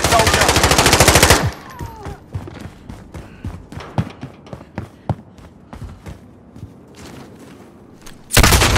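Gunfire in Call of Duty: Modern Warfare, opening with a loud sustained machine gun burst, then scattered single shots and thuds at varying distances, ending with another sudden heavy burst.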